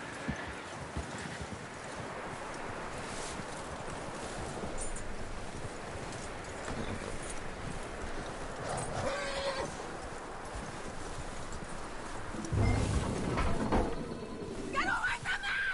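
In a video game set in the Old West, horse hooves clop steadily on the ground and a horse whinnies, all fairly quiet under ambient outdoor sound, with a louder burst of movement toward the end.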